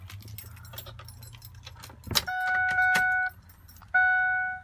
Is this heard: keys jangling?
yes